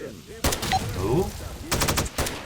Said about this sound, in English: Did somebody shoot me from all the way over there?